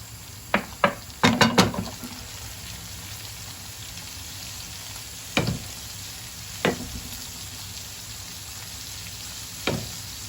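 Scattered sizzling crackles and pops from frying in a pan while cooking lebeniye soup, a quick burst early on, then sparse single pops spaced seconds apart over a steady low hiss.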